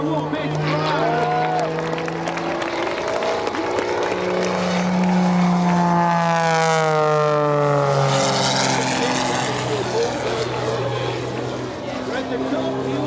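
A Wittman Pro aerobatic propeller airplane performs at the Oshkosh AirVenture 2025 airshow, its engine drone sweeping in pitch through manoeuvres, while an announcer talks over it on loudspeakers.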